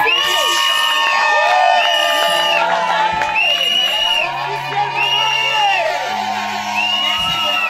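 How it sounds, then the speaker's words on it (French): Wedding guests at a customary and civil wedding cheer loudly and whoop together, with shouts and sustained tonal cries rising and falling above a dense crowd roar throughout. "Applaudissez."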